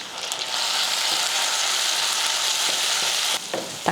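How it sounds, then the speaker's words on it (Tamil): Small onions, garlic and tomato sauté for a manathakkali kuzhambu, a bright, dense sizzle in a pan with scraping stirs and a short pause before frying resumes, close and loud. "சின்ன வெங்காயமும் பூண்டு 2 சேர்த்து 150 கிராம் நல்லா வதக்கி விடுவோம்"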